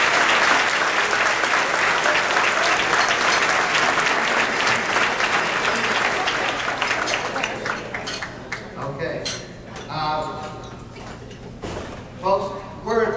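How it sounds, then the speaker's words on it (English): An audience claps warmly for a performer at a symposium. The applause is thick and loud at first, then thins and fades into scattered claps and soft voices, with a door-like clunk near the end. "Let's give a big round of applause for Lisa."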